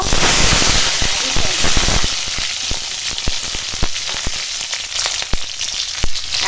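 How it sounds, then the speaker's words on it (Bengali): Nigella seeds crackle and pop in hot mustard oil, followed by green chilli being added, a loud close sizzle with sharp scattered snaps throughout. "দেখো চটর পটর আওয়াজ হয়েছে কালো জিরেটা দিয়ে"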